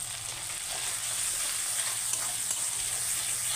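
Katla fish pieces sizzle in hot oil with chilli powder, salt and turmeric, a steady, close crackling hiss with faint stirring scrapes, no voices.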